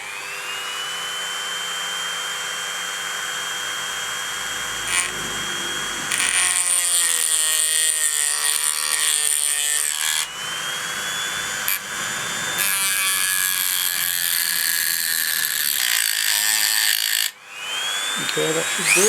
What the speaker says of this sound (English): So what I'm going to do is I'm just going to Dremel it a little bit just to make a better line.